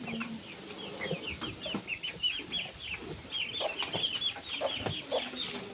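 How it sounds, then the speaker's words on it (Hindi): A young chicken chick on a farm makes rapid, high clucks and peeps in quick bursts throughout, fairly close, over soft outdoor background noise. "मुर्गी का बच्चा है"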